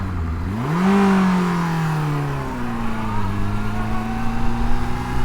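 Motorcycle engine revving up in neutral, then settling into a steady running idle; the loud rising rev eases off into a continuous near drone.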